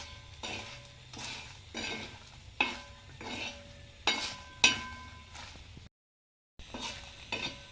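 Dry masala spices being stirred and roasted in a pan for Champaran mutton, with repeated scraping strokes of a spoon against the metal and a light sizzle, close and moderately loud, with one brief dropout.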